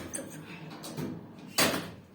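Turkish Sanel elevator doors sliding shut in a shopping centre, a brief rush of motion ending in a louder close near the end, with someone talking faintly over it.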